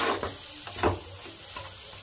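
Egg and brinjal curry with onions cooks in a pan while being stirred. A close, hissing sizzle carries a few distinct scraping stir strokes over about two seconds.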